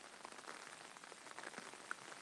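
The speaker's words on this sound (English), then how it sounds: "You can hear the raindrops on my umbrella." Rain patters steadily on an umbrella during a walk through suburban north Osaka, Japan, a dense, soft, close hiss of drops with a few brighter individual taps, no voices.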